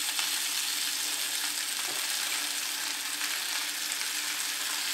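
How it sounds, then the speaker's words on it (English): Cucumbers and onions fry in a pan with a loud, steady, close hiss of sizzling that runs throughout, with faint stirring clicks and no speech. "Got to put the cucumbers in on top of these onions while they're cooking"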